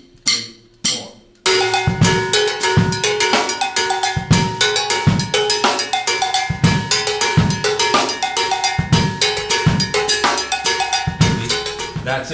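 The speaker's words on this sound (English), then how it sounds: "kind of a three bell part, and that would sound like this." A few sparse cowbell hits open, then a steady groove kicks in with three cowbells of different pitch played on a drum kit, bright metallic clanks interlocking in a repeating rhythm over kick and snare.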